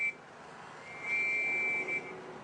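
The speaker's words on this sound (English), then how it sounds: "the whistle, signaling it's time to return home where plenty of food awaits" A pigeon training whistle gives a thin, steady high-pitched tone for about a second over constant broadband hiss, fairly faint and alone.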